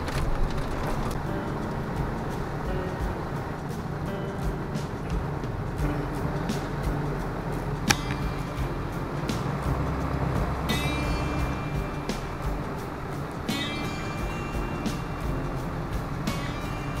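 Four-wheel drive car pushing through snow, a steady loud road and engine rumble with faint crunching and occasional clicks throughout, no talking.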